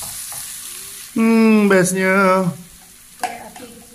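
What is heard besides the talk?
food frying in a pan outdoors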